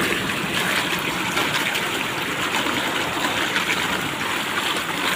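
Cold water flows steadily along a stream in a nature park, a dense, close rushing and trickling wash that holds constant and unbroken throughout.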